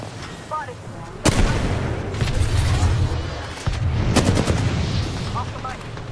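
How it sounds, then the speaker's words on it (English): Gunfire in an Apex Legends match: bursts of sharp shots, with two loud, close volleys standing out over a constant rumble of game battle noise. "Getting shot at."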